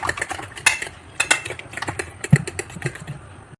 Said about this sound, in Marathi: आता हे चांगलं फेटून घ्यायचं।